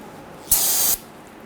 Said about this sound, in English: go ahead and use some spray solvent if you want and just clean that up a little bit